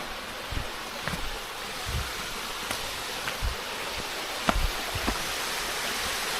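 A stream runs at the Mallankuzhi waterfalls, giving a steady broad rush of flowing water with a few soft splashes rising above it.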